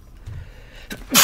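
A sudden, loud sneeze bursts in near the end of a quiet stretch, preceded by a brief sharp intake of breath, with faint game background beneath.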